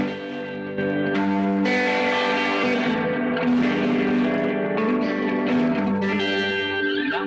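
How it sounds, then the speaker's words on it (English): Electric guitar played through a multi-stage overdrive-to-distortion pedal in its second, heavier mode, giving a sustained, thick, saturated tone with ringing chords held throughout, loud and alone without talk. "It's sort of a multi-stage overdrive to distortion."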